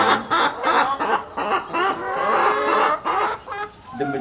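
Chickens clucking at feeding time in a coop, a busy chorus of overlapping clucks and squawks, close and fairly loud throughout with no one speaking.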